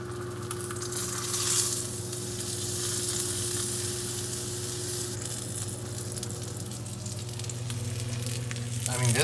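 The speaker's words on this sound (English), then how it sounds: "Now I'm going to attempt to flip the fish." Salmon fillet pan-searing skin-side in a hot pan, giving a steady, close, continuous sizzle and crackle that swells briefly as the fish is turned, with no talking.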